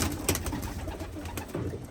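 Racing pigeons coo in a loft, a dense low rumbling murmur from many birds nearby, steady and continuous with a couple of sharper clicks, and no voices over it.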